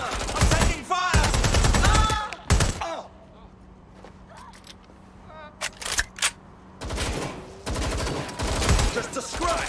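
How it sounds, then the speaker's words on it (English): Gunfire in the Watch Dogs: Legion video game comes in loud rapid bursts, heaviest at the start and returning near the end, with scattered single shots in a quieter middle and voices speaking over parts of the firing. "I'm taking fire."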